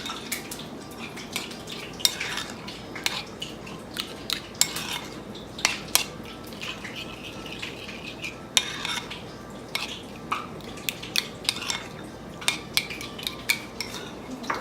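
A spoon stirring plain yogurt with water and salt in a bowl, quick irregular clinks and scrapes of metal against the dish repeating throughout at close range, with no voices.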